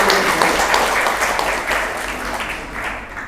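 Seminar audience applauds in a hall during a digital literacy event, dense clapping from many people that starts loud and gradually thins and fades toward the end.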